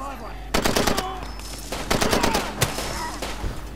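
Enemy gunfire aimed at the player in Far Cry 2, loud rapid bursts of automatic shots in two main volleys with scattered single cracks between, close and alone with no talk.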